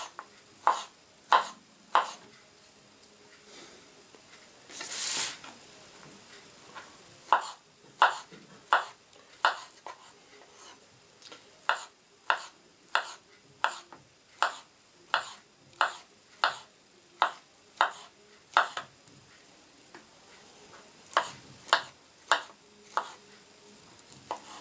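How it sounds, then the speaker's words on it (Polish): Knife slicing a banana into rounds on a cutting board while preparing a pre-workout meal, giving a steady run of about twenty crisp, close taps spaced evenly, with a brief pause partway through and a louder scrape. "Także kroimy bananika na takie plasterki."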